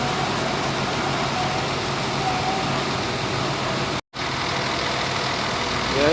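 A Makmur tronton bus, a Scania K410IB with a PBC SR2 AD frame body, idles nearby with a steady, loud engine drone that continues without pause apart from a sudden brief dropout.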